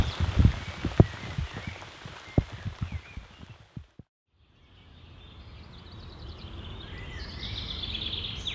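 Relentless rain falling during an overland trip through the Netherlands, a steady patter with occasional louder drips that cuts out briefly, then returns as a softer, even hiss with faint birdsong above it.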